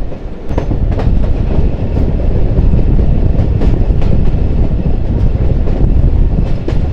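The Dhalarchar Express rolls loudly on the rails through a wide curve, its wheels giving a continuous rumbling clatter with rhythmic clicks close by.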